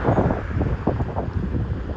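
Strong wind buffets the microphone beside a main road while horses are hacked out, a loud low rumbling roar with gusty pulses and no clear voices.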